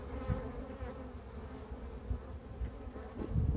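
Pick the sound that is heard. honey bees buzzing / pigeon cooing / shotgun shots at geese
honey bees buzzing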